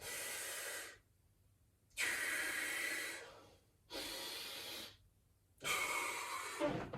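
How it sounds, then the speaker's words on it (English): Four long, loud breaths during a fitness training session, each a broad airy rush of about a second separated by short pauses, close to the mic with no talking. "So a couple of deep breaths."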